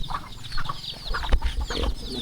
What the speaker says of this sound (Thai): ไก่เลี้ยงไก่บ้านทุกคน